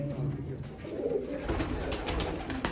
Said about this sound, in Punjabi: ਇਹ ਕਬੂਤਰ ਕਾਲੇ ਜਿਨ੍ਹਾਂ ਦਾ ਉੱਧਰ ਵੀ ਸ਼ੋਅ ਕਰਾਇਆ